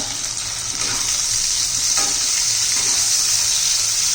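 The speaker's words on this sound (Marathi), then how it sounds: "छान असं परतून घ्यायच्यात आपल्याला भाज्या" Vegetables for masale bhat, onion and tomato among them, sauté in a pan with a loud, even, unbroken sizzle and a few faint stirring scrapes.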